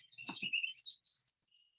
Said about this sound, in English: I can hear other birds in the background there.